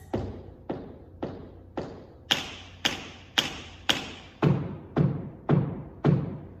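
Eleven crisp tap-shoe strikes sound against a hard floor in an even, steady rhythm, some sharper and brighter, others heavier with a low thud.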